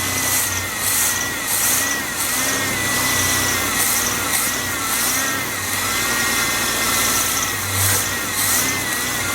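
A budget turbocharged 250 engine running for the first time, a loud steady idle with a rough, pulsing mechanical drone and brief revs that swell and fade again, heard up close with no talking.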